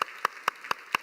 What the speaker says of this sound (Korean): 우리 그런 의미로 옆에 있는 분들에게 한번 격려의 박수 한번 할까요?